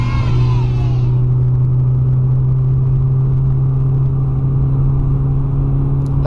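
A turbocharged BMW E36 318is engine idles with a steady, deep rumble close by. A brief higher whine fades out in the first second, and nobody talks over it.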